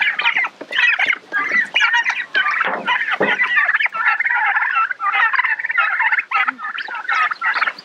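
Several turkeys gobble and chatter in a dense, continuous flock chorus, loud and close, with overlapping rapid calls throughout and no speech.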